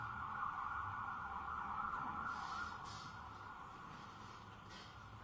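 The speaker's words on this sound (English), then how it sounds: "wait until the sirens pass" Emergency vehicle sirens wail continuously, fairly faint and distant, easing off slightly as they pass, over low traffic rumble.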